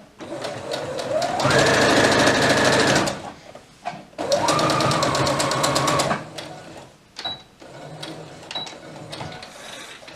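A sewing machine runs in two long, loud bursts of fast, even stitching while sewing a rolled hem on a toddler's elastic-waist dress, then follows with short stop-start runs and a few clicks.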